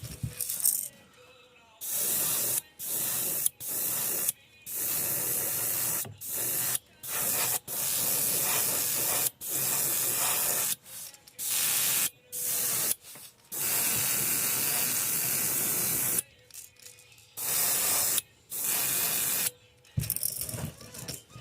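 Repeated bursts of fine, hissing airbrush paint spray start and stop in quick succession, some short and some held for a few seconds, close by.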